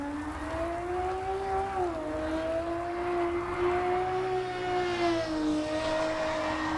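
Race car engine in the Assetto Corsa EVO racing game drones at high revs, a strong tonal whine dipping briefly with gear changes and climbing again, steady and close.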